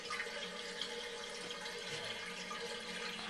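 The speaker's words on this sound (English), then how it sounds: "Sounds like there's a leak." Water running and trickling steadily inside the tank of a 2000 Saniflo toilet with a leak, a constant soft rushing hiss heard close up and quiet, with no talking.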